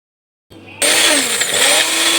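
A kitchen mixer grinder starts up while blending mint chutney, with a brief low rumble followed by a loud, harsh, steady motor whir.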